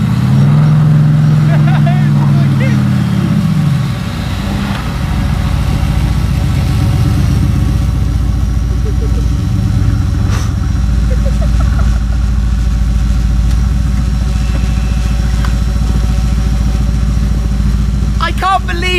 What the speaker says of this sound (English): That's a little Panda 4x4 and it just pulled the GTR up the hill.